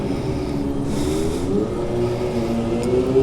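A lowered Kawasaki Ninja motorcycle engine revs up close at steady volume, its droning harmonic tone rising in pitch partway through without any talk.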